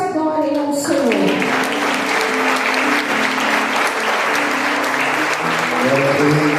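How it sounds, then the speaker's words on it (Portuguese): Dense applause from a church congregation at a Sunday worship service fills the room continuously, with a voice and sustained musical tones carrying underneath the clapping throughout. "que as palmas adorem ao Senhor"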